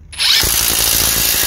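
A power tool whirs at full speed right up close, steady and loud after a brief start, driving an 18mm socket onto the track rod nut of a VW during CV joint work.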